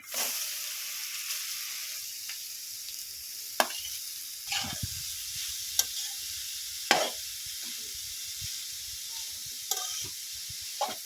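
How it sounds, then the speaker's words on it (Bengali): Carrots stir-frying in ghee in a kadai for carrot halwa, a steady close sizzle with scattered sharp scrapes and clacks of a spatula stirring through the pan, no voices. "ঘেটে গাজরগুলো একটু ভেজে নেব এইভাবে"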